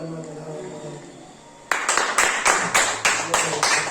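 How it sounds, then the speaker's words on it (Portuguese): A church congregation at a Thursday study claps for the Lord, bursting into rhythmic, evenly spaced group claps right after a sustained sung or spoken tone, close and fairly loud. "Uma salva de palmas para o Senhor,"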